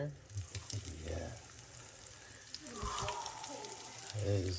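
Homemade pierogis frying in a pan, a soft continuous sizzle with faint stirring and clinking, quiet and close, with low voices talking over parts of it.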